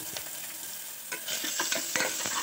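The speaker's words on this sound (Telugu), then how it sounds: "అల్లం వెల్లుల్లి పేస్ట్ పచ్చివాసన పోయేంత వరకు వేయించుకొని" Ginger garlic paste frying with onions in a pan over a medium flame, a soft steady sizzle broken by a few scraping stirs of a spoon, close and fairly quiet with no talking.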